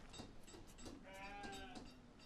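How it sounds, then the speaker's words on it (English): Sheep in the farming game Banished bleat in a short wavering call, moderately loud over a steady ambient game background. "Yes, I know, I hear you, sheep. You're cold."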